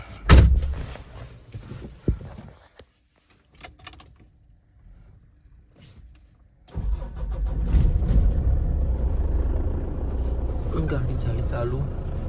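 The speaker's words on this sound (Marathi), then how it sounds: "गाडी झाली चालू" A car engine being started before a drive to the market: keys and door clicks come first amid quiet, then the engine catches and settles into a steady, loud idle hum, with people talking.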